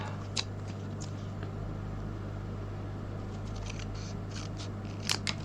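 Paper is snipped with scissors while crafting a Valentine's gold-ingot gift box, a few faint crisp cuts scattered over a steady low hum, with a small cluster of snips near the end.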